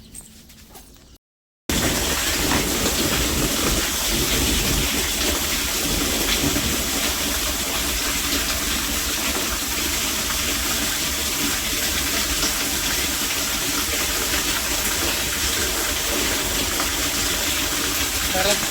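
Water gushes hard and steadily from a tap on a tank being readied, a loud, dense rush that starts after a short pause and carries on unbroken, with voices audible faintly beneath it.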